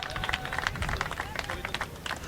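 Audience clapping for the third-place finisher called to the podium at a race prize-giving in Saint Georges de Montaigu, a dense, steady patter of applause with crowd noise mixed in throughout.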